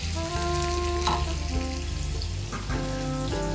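Onions sautéing in a pan for onion rice, a steady close sizzle and crackle of frying with a faint hum underneath, continuous and unbroken, with nobody speaking.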